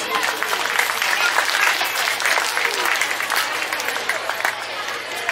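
Sustained, dense applause from an audience at a church felicitation ceremony in a parish, steady and loud from start to finish with no pauses.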